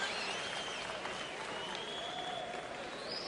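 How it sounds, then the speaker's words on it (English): A boxing crowd applauds and cheers as fighter Robert Guerrero appears at a California event, a steady, distant wash of clapping and crowd noise lasting the whole stretch. "Robert Guerrero turning up and being cheered by the crowd"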